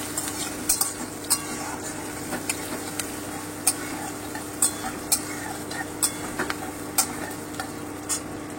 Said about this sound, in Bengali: এবারে আমি কুচনো পেঁয়াজটা দিয়ে দিলাম। আমি এটাকে হালকা ব্রাউন করে ভেজে নেব।